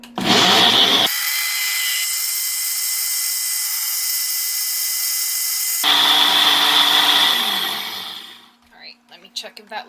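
A countertop blender whirs loudly and steadily for about five seconds as it purees strawberries, room-temperature raw butter, two raw pasture-raised eggs and honey, with a louder start and finish around it before the motor spins down into quiet.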